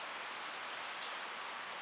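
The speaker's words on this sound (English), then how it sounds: "I woke up to this. It's totally rain." Rain falling outside after a long spell of wet weather, heard as a steady, airy hiss of drops with no distinct individual impacts, constant in level and without any talking.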